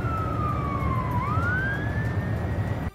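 A wailing siren sounding as a Patriot air defense system is brought to an army base, one rising and falling tone over low traffic rumble, fairly loud and with no voices.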